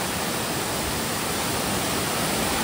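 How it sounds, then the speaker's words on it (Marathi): Steady, dense rush of the Somtirth waterfall pouring through green forest near Nivendi village, a constant broadband roar without pauses or voices. "हिरव्यागार वनराईतून हा वाहणारा सुंदर असा सोमतीर्थ धबधबा"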